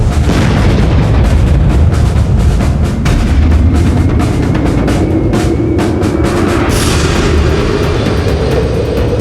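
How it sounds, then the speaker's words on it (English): The battlecruiser Hood's big naval guns fire in a dramatized scene: a loud, dense roar of booming blasts and rumbling, sustained and close, with no voices over it. "The Hood opens fire."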